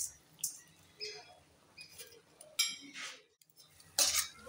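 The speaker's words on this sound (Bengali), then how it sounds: "দিয়ে ভালোভাবে আমি নাড়া দিয়ে দেবো।" Lentils and jute greens being stirred in a pan, with scattered light scraping and clinking of a utensil against the metal in short bursts, close and fairly quiet, separated by brief pauses.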